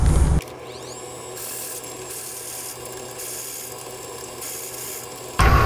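A wood pen blank being drilled, with the bit backed out now and then to clear chips; a steady, close grinding whir runs throughout, framed by louder bursts at the very start and end.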